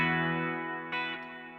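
Electric guitar through a Mad Professor Kosmos reverb pedal on its plate setting: a sustained chord rings and slowly decays into a shimmering plate tail, with a second brighter strum near the middle that also fades out.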